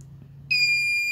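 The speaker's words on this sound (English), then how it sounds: "so that's why our buzzer will be on" Over-voltage buzzer on an Arduino transformer monitoring circuit sounds a steady, piercing electronic tone that starts abruptly midway and holds loud to the end.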